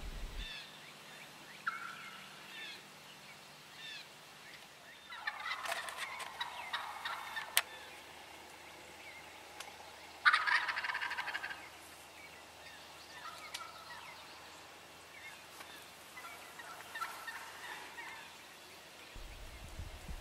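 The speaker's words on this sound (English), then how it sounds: "there's a hen out in the middle of this field that's been squawking her head off all morning long." A wild turkey hen out in a field squawks in loud, harsh bursts, alone against quiet outdoor background, with long gaps between calls.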